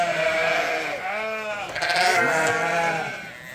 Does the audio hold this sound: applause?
no